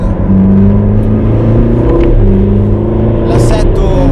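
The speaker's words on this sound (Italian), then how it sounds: "un motore turbo senza il tipico ritardo nell'erogazione" A Ferrari California T with a turbocharged engine accelerates on roads around Monte Carlo, a loud close droning engine note with rising tones, with someone talking over it.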